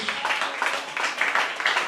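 A church congregation breaks into sustained applause, a dense wash of many hands clapping steadily for about two seconds, fairly close and loud.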